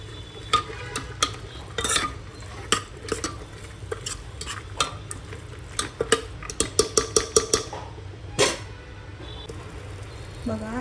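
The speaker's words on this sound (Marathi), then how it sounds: "चवळी, एकत्र करायचे आहे।" Spoon scraping and clinking in a pan while stirring a cowpea vegetable curry with spices, irregular rapid taps and scrapes over a low sizzle, close up.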